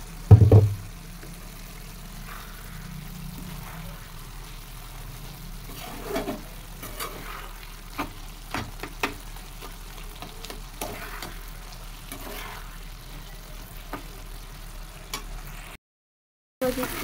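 Grated radish bhaji fries in a pan, a steady soft sizzle running throughout, broken by occasional scraping knocks of a spoon stirring it, close and moderately quiet, with no talking.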